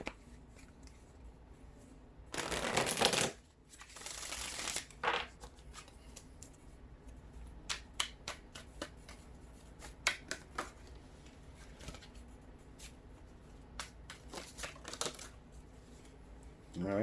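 Tarot cards are shuffled up close in loud riffling bursts, followed by a series of sharp card taps and flicks.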